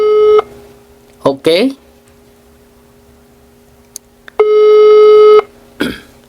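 A telephone ringback tone sounds as steady beeps while a call is placed during a live chat: a short burst, then a longer one-second tone after a pause. Brief voices and clicks come in between the tones.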